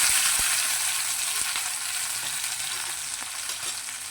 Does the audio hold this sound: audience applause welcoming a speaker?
no